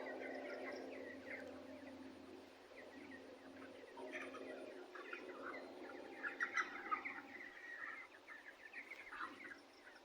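Thirty-day-old broiler chickens chirp and cluck in their shed, a faint busy flock chatter with some louder calls near the middle, and a person speaks briefly.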